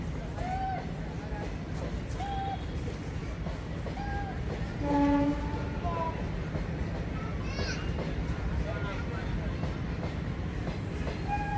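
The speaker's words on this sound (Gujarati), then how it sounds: "અહીંથી ટ્રેન નીકળી સાડા છ વાગ્યાની" A departing train bound for Porbandar from Rajkot rumbles along with a continuous low mechanical drone, scattered squeals and horn-like tones rising over it, while people talk nearby.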